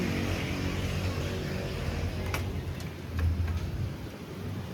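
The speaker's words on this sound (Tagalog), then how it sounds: "May ulan pa, guys." Steady rain hiss fills the air with a few faint distant rumbles and sharp ticks, continuous and moderately loud throughout.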